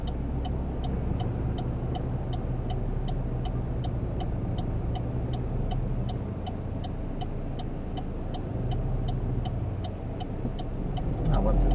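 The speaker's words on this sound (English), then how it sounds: "We have a car coming from the right." A car approaches from the right at a road junction, its engine a steady low rumble under the cabin noise of a waiting vehicle, with a regular ticking indicator repeating throughout and the sound swelling slightly near the end.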